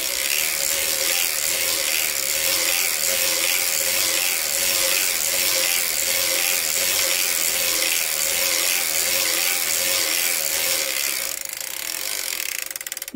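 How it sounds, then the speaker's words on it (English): Circular sock knitting machine cranked steadily, giving a continuous close ratcheting, clicking mechanical whir with a regular pulsing rhythm that carries on throughout, slightly easing near the end. "And then we'll crank it off."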